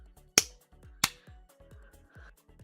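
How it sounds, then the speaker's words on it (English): Two sharp, isolated hand claps ring out close and crisp about half a second apart, over faint rhythmic background sounds from the game Fall Guys. "I'll just clap."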